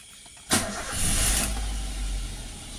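A 2012 Toyota Avanza engine cranks and catches with a sudden burst, then settles into a steady close idle, with no talking.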